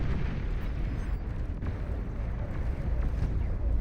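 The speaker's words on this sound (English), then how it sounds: "Nuclear missile headed out." Nuclear missile launching in the real-time strategy game Beyond All Reason, a dense, continuous rumbling roar with crackling bursts that stays loud and steady throughout, with no talking.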